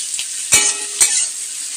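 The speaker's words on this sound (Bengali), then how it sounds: "এই যে পেঁয়াজগুলো ভাজতে দিলাম" Onions fry in a pan with a bright, constant sizzle, broken twice by short scraping stirs, close and fairly loud with no voices.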